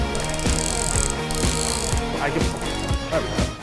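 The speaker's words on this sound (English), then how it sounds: "we're ready to pull the grain basket out" Grain basket hauled up out of thick beer mash for a high-ABV Belgian quad, with a fast run of close metallic ratcheting clicks from the hoist, and a voice speaks briefly underneath.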